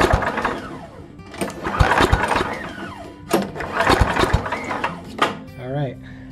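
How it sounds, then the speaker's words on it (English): A snowblower engine cranks over under several quick pull-cord tugs, each a loud sputtering burst separated by brief pauses, heard close up. "see what happens when I do the pull cord"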